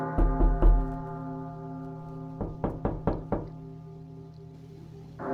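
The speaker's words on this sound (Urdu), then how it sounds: "رات ہوتے ہی گھروں کے دروازے زور زور سے بجنے لگتے ہیں" A horror-story sound effect of someone pounding on house doors at night: a quick burst of three heavy, resonant knocks, a pause, then four more evenly spaced knocks, loud and close.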